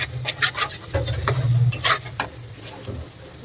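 A spiced curry base sautéed slowly in a pan at home, with scattered scraping clicks of a spoon against the metal over a low steady hum.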